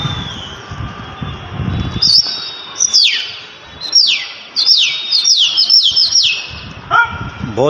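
Birds on a Chandni Chowk rooftop during a pigeon-flying display, a burst of bright chirps and descending whistled calls repeating over several seconds, fairly close, with low murmuring talk and rumble at the start.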